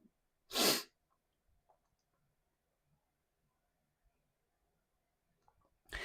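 A single loud, sharp human sneeze bursts out near the start, followed by near silence with only faint clicks and a soft breath at the end.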